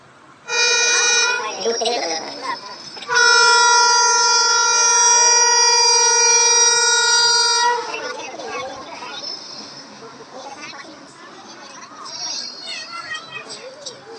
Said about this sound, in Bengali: এই যে আমাদের এবার ট্রেন ঢুকছে দেখো